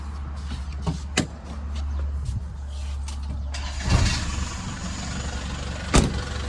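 An Isuzu TFR pickup engine idles steadily with a low, smooth, quiet hum, broken by a few sharp clicks and a louder knock or two near the end.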